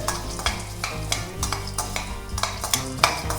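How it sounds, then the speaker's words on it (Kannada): Dried red chillies with chana dal and urad dal frying in oil in a pan for a traditional Udupi-style ash gourd sambar, crackling and sizzling steadily with repeated stirring scrapes and clinks, close and alone. "ಮೆಣಸು ಸಿಡಿತಾ ಇದೆ."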